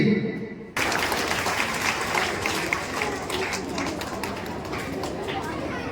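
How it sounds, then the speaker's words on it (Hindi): Audience at a school prize-giving event clapping for a young child, a dense sustained round of applause that starts abruptly and holds steady at close range with crowd noise mixed in. "एक बार ताली बजाकर इस बच्चे का हौसला अफजाई करें"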